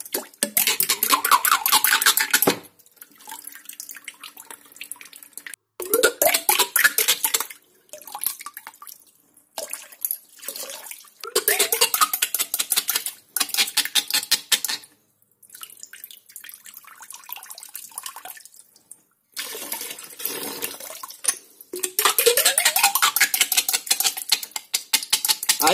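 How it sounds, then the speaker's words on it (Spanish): Water gushes out of a homemade check valve in repeated bursts of splashing flow, separated by short quiet gaps and drips, close and fairly loud, with no talking. "Ahí sale el agua."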